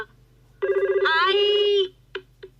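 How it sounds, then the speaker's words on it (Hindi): A cartoon telephone rings in a home, a bright electronic trill lasting just over a second, followed by two short clicks, alone and fairly clear. "किसका फोन होगा?"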